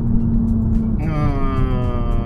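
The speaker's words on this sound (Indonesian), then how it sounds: "kalau di regen ada suaranya" Low road rumble, then about a second in a high electric motor whine cuts in and holds steady as a Mazda CX-80 PHEV slows under regenerative braking.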